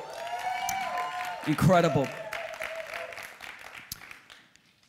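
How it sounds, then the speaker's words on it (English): Church congregation applauding the worship team during a service, a steady wash of clapping under a speaker's voice and lingering music, fading toward the end. "would you give a hand for our worship team?"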